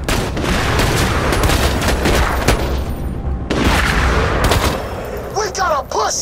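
Sniper gunfire in the video game Borderlands 2: loud, dense volleys of shots and booms crowd together, with one brief lull midway before the barrage resumes.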